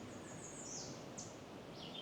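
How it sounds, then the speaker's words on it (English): American redstart song in a Blue Ridge forest along the Virginia parkway: a few thin, high, sweet phrases at moderate distance over a steady background hush. "we hear redstarts, but we don't see any."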